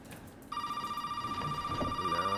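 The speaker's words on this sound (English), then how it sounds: "The phone rings." A telephone rings in Resident Evil 7, a steady electronic ring that starts abruptly after a quiet half-second and continues loud and sustained to the end.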